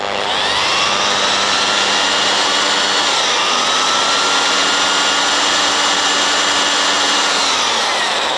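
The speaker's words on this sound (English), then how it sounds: "we're just going to use that 3 millimeter drill" Power drill with a 3 mm bit boring into a Mikuni BSR 36 carburetor from a DRZ400 motorcycle, a loud, steady high-pitched whine held continuously at close range, with no voices.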